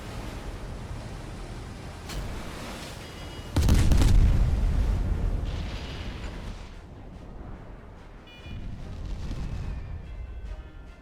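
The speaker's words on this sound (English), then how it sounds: "Inbound torpedo, watch out!" Torpedo hits in the naval combat game Steel Ocean: a heavy booming explosion erupts mid-clip and rumbles away in a long roaring tail, followed later by a second, softer blast amid steady sea and engine noise.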